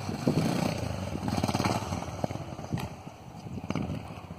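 A Yamaha XT660 motorcycle engine revving and shifting gear at a small dirt lot, a steady thumping single-cylinder drone with rising and falling throttle pulses, fairly distant and steady throughout.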